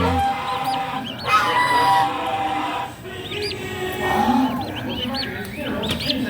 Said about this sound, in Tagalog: mama turkey na to